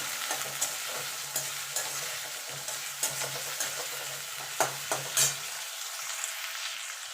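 Bottle gourd leaves fry in a pan with a steady close sizzle, broken by repeated soft scraping stirs and a few sharper clinks; there is no talking.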